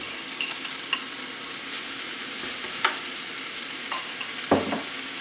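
Mushrooms frying in a pan, a steady soft sizzle broken by a few sharp scrapes and clinks as they are stirred, with no talking.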